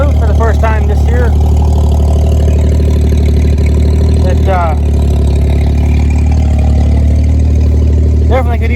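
The engine of an International Harvester L-130 truck runs at a steady idle, a loud and continuous low rumble with a few brief higher sounds passing over it.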